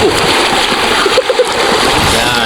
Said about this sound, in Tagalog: Isang alon.